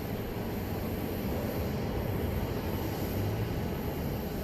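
A plane lands at Dallas Love Field, a steady, continuous broadband jet rumble heard from a distance with no talk over it.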